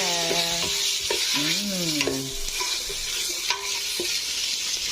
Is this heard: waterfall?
no